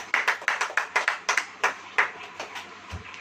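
Hands clapping in a quick, steady rhythm at a church sermon, a dozen or so sharp claps close by that slow and fade toward the end.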